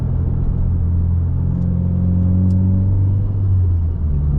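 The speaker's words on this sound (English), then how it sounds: "I do like the sounds that this car makes." A car engine rumbles with a deep exhaust note, revving up and holding a steady drone, loud and close throughout.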